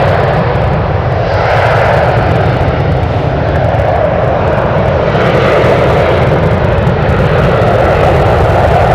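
A fixed-wing airliner roars loudly overhead near San Francisco airport, its engine noise a steady, dense rumble that fills the whole span without breaks.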